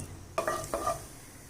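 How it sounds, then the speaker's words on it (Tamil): Cumin seeds spluttering in about five tablespoons of hot oil make a steady, fairly soft sizzle, broken by a few sharp clacks of a spoon stirring the pan. "இப்போ ஜீரகம் பொரிய ஆரம்பிச்சிருச்சு"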